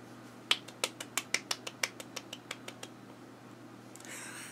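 A run of about a dozen soft, evenly spaced claps, close by and alone, growing fainter as they go.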